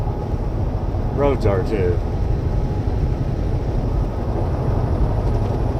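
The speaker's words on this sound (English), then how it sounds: "We'll probably have this wind all day today, just like we did yesterday." Steady wind roars and buffets around a truck cab on flat open Colorado plains. Someone speaks briefly over the constant low rushing noise.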